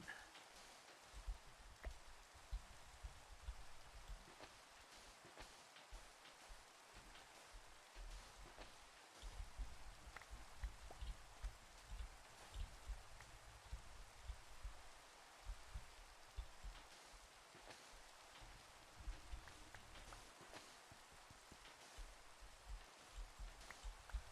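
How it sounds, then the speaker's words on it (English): Steady rain patters down in a Minecraft world, a dense even hiss of drops on surfaces that continues alone throughout without any talk. "I am trying to build something and it is raining."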